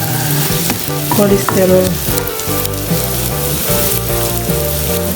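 A pan of oil left over from frying fish sizzles steadily and loudly. Scraping and stirring clatter cuts through it now and then, and a voice speaks briefly.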